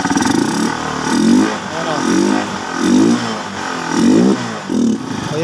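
A Honda TMX Supremo motorcycle with a misfiring engine is repeatedly revved close up, its loud mid-pitched roar rising and falling in regular surges while someone talks briefly over it.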